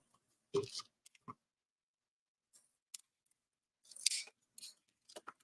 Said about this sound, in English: I need my scissors for this one.